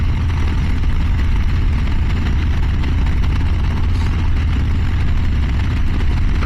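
A Harley-Davidson Low Rider ST motorcycle engine runs loud and steady at close range, with a low constant rumble and no voices.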